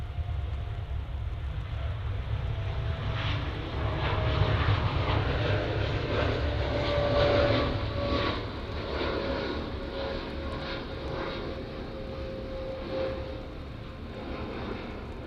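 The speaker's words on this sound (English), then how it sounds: "TUI Dreamliner off to Melbourne." A TUI Boeing 787 Dreamliner departs Manchester Airport on an early morning, its steady jet engine roar loud and sustained for the whole stretch, swelling slightly midway with a faint whining tone riding over the low rumble, and no talking.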